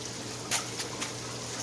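Water boils and bubbles from a heater in a 540-gallon fish system, a steady close hiss broken by a few soft popping bursts.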